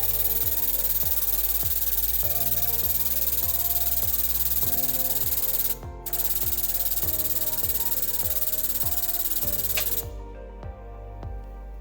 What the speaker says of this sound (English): we're going to take this assembly back over to our press so we can press that shaft out of the bearing